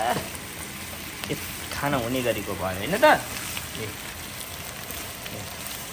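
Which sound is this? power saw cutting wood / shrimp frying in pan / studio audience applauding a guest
shrimp frying in pan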